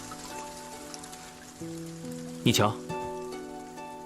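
Rain falling outdoors, with a soft steady patter behind the whole stretch and a background melody. A person speaks briefly, and there is a sharper swish in the middle.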